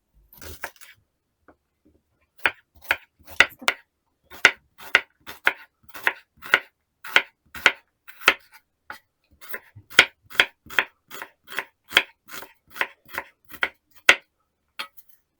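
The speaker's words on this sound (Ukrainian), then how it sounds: "Цибулю порізати напівкільцями." An onion sliced into half rings with a knife on a board, a steady run of about two dozen crisp, close chopping taps at an even brisk rhythm, with no talk.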